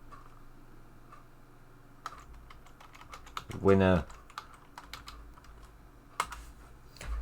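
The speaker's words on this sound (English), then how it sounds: "I'm only typing Sting" Rapid computer keyboard typing, close and fairly loud, with a scattered stream of key clicks and a brief spoken word partway through.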